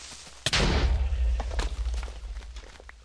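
A Minecraft creeper explodes, one sudden loud blast followed by a rumbling decay and scattered debris thuds fading over a couple of seconds.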